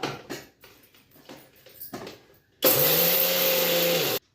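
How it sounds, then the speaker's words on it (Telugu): A mixer grinder whirs loudly, grinding lentils to powder, for a little over a second after a few quiet clicks and knocks, then cuts off abruptly. "మిక్సీకి అన్ని పప్పులు పొడి చేసేసుకుందాం"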